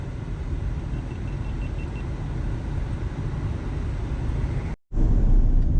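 BMW X3 SUV cruising along the NH44 highway toward Chandigarh, a steady broadband road and engine rumble heard from inside, cut by a brief dropout near the end before resuming.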